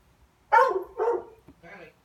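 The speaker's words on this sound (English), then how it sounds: "They bark at each other to get themselves going" Dogs at a veterinary visit let out three short, near barks in quick succession, the last one softer and higher.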